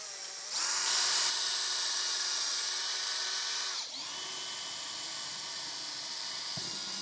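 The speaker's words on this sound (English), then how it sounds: "inside, I'm going to drill the holes out from the outside." A power drill bores holes through the outside of a box for a DIY portable power station, whining loudly at close range for about three seconds, then dropping to a steady lower hum that runs to the end.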